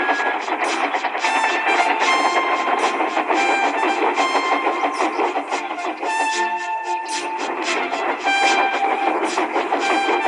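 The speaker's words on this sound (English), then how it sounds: "The wheels of the coaches were just rattling." An HO/OO model train's coach wheels rattle in a steady, rhythmic clickety-clack that runs continuously and fairly loud throughout.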